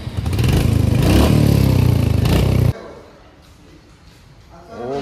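A Royal Enfield Hunter 350 motorcycle engine, opened up during servicing, runs with a loud, close, rough clattering idle, then cuts off abruptly. Quiet background follows, and a voice emerges at the very end.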